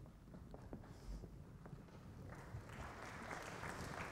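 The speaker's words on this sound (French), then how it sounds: "un peu d'applaudissements" Round of audience applause at a round-table conference session, a soft, steady wash of many hands clapping that swells slightly toward the end, distant and low in level.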